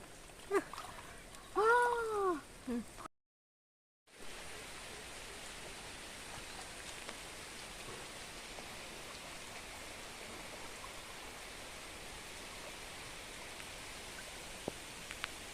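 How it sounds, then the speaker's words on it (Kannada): Heavy monsoon rain falls steadily beside a stream, a dense even hiss that persists after a brief break, following a short stretch of speech at the start. "ಬರ್ಸ ಇನಿ ಹೆವಿ ರೈನ"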